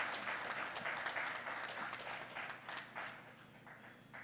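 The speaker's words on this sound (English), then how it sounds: "I request you all to give a big round of applause to CA Ranjit Agarwal" An audience at a chartered accountants' professional study session claps steadily for a few seconds, a dense patter of applause that thins slightly toward the end.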